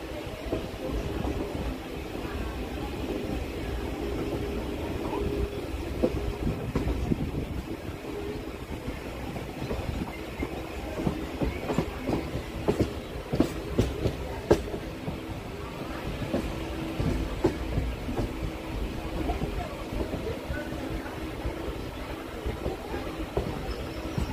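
Ranaghat–Krishnanagar local train via Santipur rolling into Krishnanagar City Junction, a steady loud rumble of wheels on track with bursts of rhythmic clicking and clatter over the rails across the whole run.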